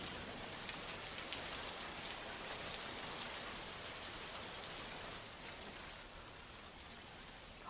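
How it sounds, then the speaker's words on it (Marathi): Heavy rain pours steadily over Pune, a dense, continuous hiss of downpour striking surfaces that stays loud and even throughout, easing very slightly near the end, with no voices. "पुण्यात मध्यरात्रीपासूनच जोरदार पाऊस बरसतोय"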